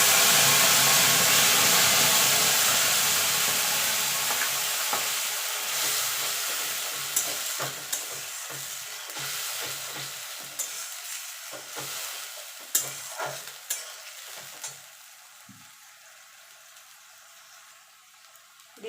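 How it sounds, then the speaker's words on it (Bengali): Tomato paste hits hot oil tempered with whole garam masala and cumin, setting off a loud, close sizzle that gradually fades while a spoon stirs with intermittent scrapes and taps; no talking. "ফোড়নটা হয়ে গেছে, এখানে দিয়ে দেবো টমেটো বাটা।"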